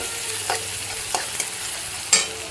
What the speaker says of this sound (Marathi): कांदा थोडंसं आपल्याला लालसर होईपर्यंत परतून घ्यायचं.